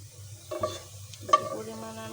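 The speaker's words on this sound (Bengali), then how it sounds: "সেজন্য পেঁয়াজটা ভেজে নিচ্ছি" Onions frying and being stirred in a pan while cooking desi chicken morog polao, with a soft steady sizzle, a few close scraping stirs and a brief metallic clink, no talking.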